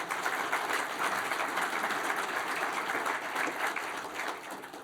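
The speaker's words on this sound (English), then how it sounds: "So I think they deserve another round of applause." Steady applause from an audience in a banquet room at a State of De Pere 2023 event at St. Norbert College, a dense continuous patter of clapping that holds at an even level for the whole stretch with no voices over it.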